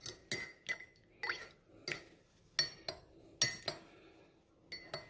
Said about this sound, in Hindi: दूध थोड़ा थोड़ा डालें, ज़्यादा ना डालें, साथ में इसको मिक्स करते रहें।